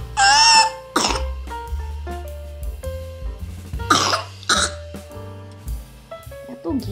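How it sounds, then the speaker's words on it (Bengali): A child with a cold coughs and clears the throat in several close, harsh bursts, separated by short pauses and breathing, with brief indistinct talk in between. "আর ঘামের জন্য এত কাশি হচ্ছে"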